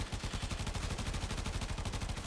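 Rapid automatic weapon fire from a fast-shooting gun in a Star Chart shooter game, a steady stream of evenly spaced shots about a dozen per second, loud and close, continuous with no talk.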